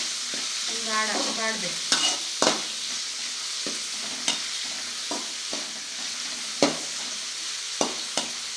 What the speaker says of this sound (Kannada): ಇದನ್ನು ಕೈಯಲ್ಲಿ ಬಾಡಿಸಿ ಸ್ವಲ್ಪ